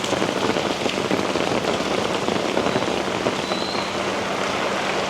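A dense, steady hiss of rain pours onto a street in Da Nang, Vietnam during a rainstorm, with continuous patter and spatter close by and no voices.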